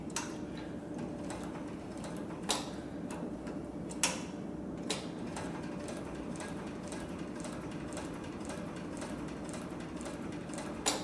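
A Cowboy CB341 walking foot cylinder arm sewing machine runs at a quick, even pace, a close mechanical ticking and clattering with a few sharper knocks over a low motor drone.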